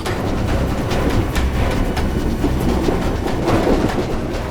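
Train running on rails heard from inside a compartment, a loud continuous rumble with rhythmic clickety-clack of the wheels, close and steady throughout with no speech.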